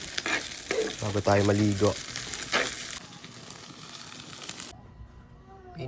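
Food frying and being stirred in a pan, a loud steady sizzle with scraping stirs, a voice talking over it early on, then the sizzle continues alone more softly.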